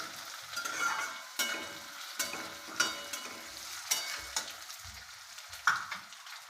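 Boiled potato being stirred into poha in a frying pan, with a steady close sizzle and repeated scraping strokes of the spoon against the pan.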